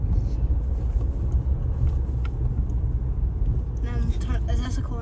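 Volvo 740 GLE engine with the throttle held gently, a steady low rumble heard from inside the car, with people talking over it.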